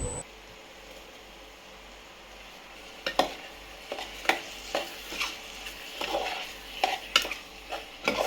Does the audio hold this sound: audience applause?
no